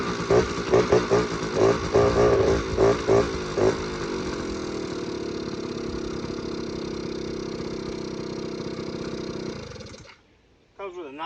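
A cheap two-stroke automatic belt-driven ATV quad engine runs close by, revving in short choppy bursts at first, then settling into a steady loud drone before cutting off near the end.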